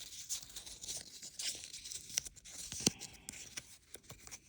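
Cardboard shipping packaging for knives being folded and creased by hand, giving a run of close, crackling tears and crinkles with a few sharper snaps, fairly quiet with no talk.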